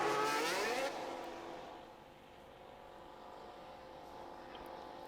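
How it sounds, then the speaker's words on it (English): F1 car engine from the F1 Manager 22 racing game, a loud rising whine in the first second that drops to a steady, more distant drone circling the track for the rest. "We'll let the car go round at a normal pace"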